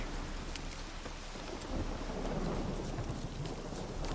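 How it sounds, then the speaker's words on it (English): A thunderstorm rolls through in The Witcher 3, with dense rain hissing steadily and low thunder rumbling underneath. The storm swells slightly partway through and carries on with no speech over it. "A storm, damn it."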